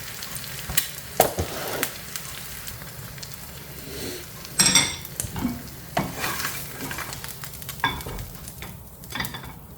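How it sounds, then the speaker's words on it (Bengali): An egg frying in a pan, with a soft sizzle broken up by the uneven scrape and clink of a utensil stirring and turning it, some sharp knocks standing out, and no voices. "ডিম ভাজা শেষ, এখন টোস্টটা বানাবো আর কি।"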